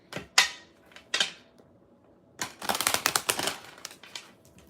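Kipper oracle cards being shuffled by hand, giving bursts of crisp riffling and card snaps in several short runs, with quiet gaps between them and no talk.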